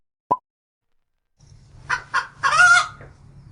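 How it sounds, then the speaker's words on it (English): An excited chicken cackles after a single sharp plop and a quiet pause: two short clucks lead into a louder, longer cackle over faint farmyard background noise. "An excited chicken cackles."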